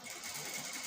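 A sewing machine stitches a blouse neckline, a steady close motor whir with fine, rapid needle rhythm throughout a short continuous run.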